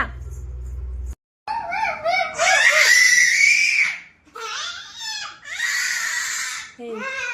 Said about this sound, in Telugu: ఎందుకు అరుస్తున్నావు?